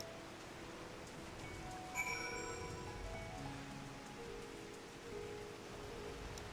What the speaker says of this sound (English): but it rains. I don't want to walk when it rains.